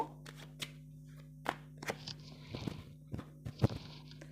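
Tarot cards are drawn from a deck one at a time, close and fairly quiet, as soft slaps and flicks at irregular intervals with brief shuffling rustles between them.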